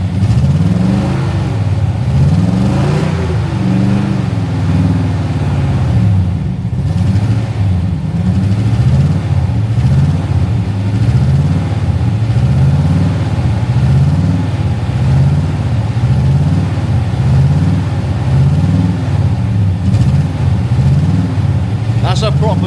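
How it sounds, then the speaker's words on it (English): Daimler Majestic Major Hemi V8 limousine engine revving repeatedly in deep, rhythmic surges, loud and close throughout with no talk over it. "That's a proper deep roar."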